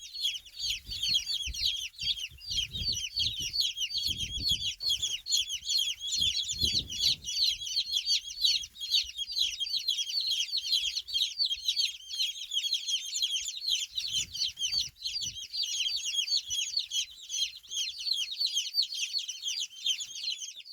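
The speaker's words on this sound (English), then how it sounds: "Naked Neck Chickens." Many Naked Neck (Turken) chicks peep and cheep continuously in a high, busy chorus, with a few soft low thumps and brief murmurs underneath.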